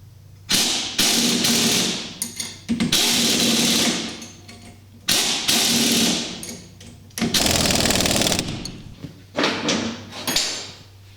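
Half-inch socket and wrench tightening nylock nuts on a golf cart front lift kit, heard as several close bursts of metallic ratcheting and clattering, separated by short pauses.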